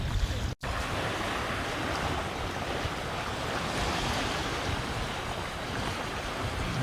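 Ocean waves and strong wind at sea heard from a boat heading for shelter near Great Keppel Island: a steady, loud wash of surf and roaring wind noise on the microphone, with a brief dropout near the start.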